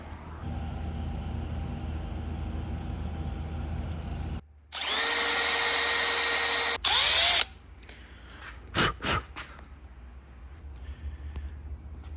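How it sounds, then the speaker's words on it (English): A power drill whirs loudly in two bursts of a few seconds, biting into the metal of a Volkswagen ignition lock, followed by scattered clicks and knocks. "Then I'll just whack a center punch in there and start drilling."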